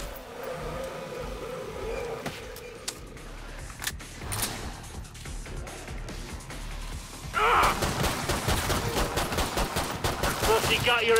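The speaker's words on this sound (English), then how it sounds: "He shoots, he kills!" Gunfire in the video game Killing Floor 2 rattles amid a busy mix of combat noise, with irregular shots at first and then a heavier, continuous barrage of rapid fire in the last few seconds.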